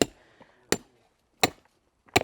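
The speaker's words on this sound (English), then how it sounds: "you're trying to pound the nail in, but it's bouncing on all the cut material" A hammer pounds a nail or spike through barrier fabric and cut plant material into soft ground, giving four sharp, loud, dull strikes spaced roughly evenly, close by, with no talk.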